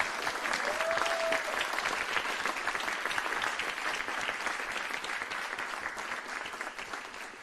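A crowd at a memorial tribute event claps continuously in a full, even round of applause that stays strong throughout, with a brief tonal whistle-like sound near the start.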